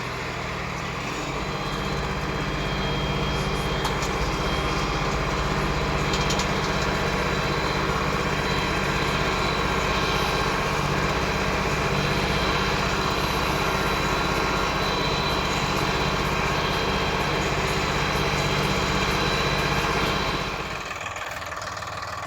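A Solis 50RX tractor engine with a 3-metre cultivator runs at a steady idle-like drone, loud and close, holding constant before dropping off near the end.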